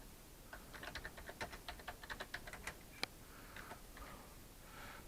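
Quiet typing on a computer keyboard while looking up a record label, with irregular clusters of light key clicks and one sharper tap, close and soft against faint background hiss.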